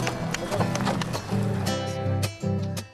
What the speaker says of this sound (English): Fina transports supplies to the refuges using pack horses